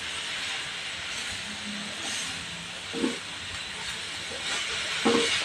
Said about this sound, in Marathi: आता आपण परत अशी भाजी परतून घेणार आहोत